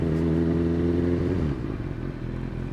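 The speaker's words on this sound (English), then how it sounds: "I really love the sound of this bike though. Deep, but has that classic inline four sound." A Honda CB1000R inline-four motorcycle runs on the road, its deep, throaty engine note strong and close for about a second and a half before easing off to a lower, rougher hum.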